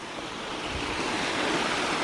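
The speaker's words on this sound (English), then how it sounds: "Little falls, and it's pretty." A small waterfall in the Scottish Highlands near Corrieshalloch Gorge gives a steady, broad rushing roar of falling water that holds even and continuous throughout, with no voices.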